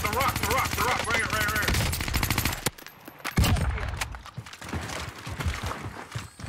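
Rapid automatic gunfire from Warzone rattles in a dense burst, then breaks into scattered single shots and game sounds, with players talking over the action.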